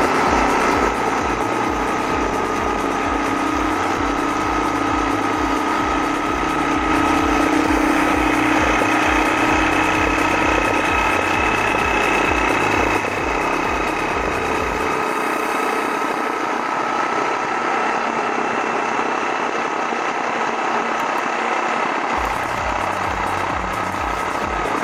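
Uchiha laser jigsaw machine cutting a pattern at speed 3, a steady loud motor whine with rattling blade chatter that drops out briefly near the end before resuming.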